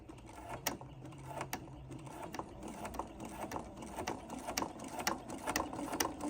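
Sewing machine stitching slowly through layered tote bag strap fabric, a quiet series of spaced mechanical clicks and ratcheting ticks with a soft motor hum underneath.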